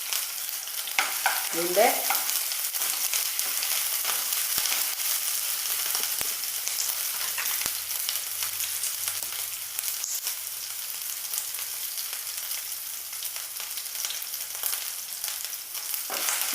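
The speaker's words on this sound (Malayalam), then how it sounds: "പച്ച മണം മാറുന്നത് വരെ നന്നായി വഴറ്റുക." Stuffed chicken filling sautés in a pan, a steady close sizzle of frying with occasional stirring, running continuously throughout.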